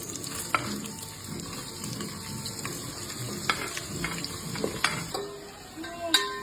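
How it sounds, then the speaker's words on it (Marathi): Chicken biryani ingredients fry and get stirred in a pan at home, a steady close sizzle broken by repeated scraping and clinking of the spoon, with song lyrics faintly in the background. "आता मी याला मस्त थोडंसं भाजून घेतलं."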